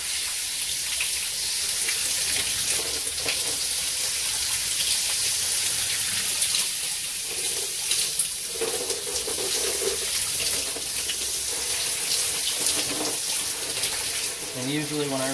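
Tap water runs steadily and close by while a wash rag is rinsed in a shower, making a continuous hiss with soft splashing that changes a little as the rag is moved.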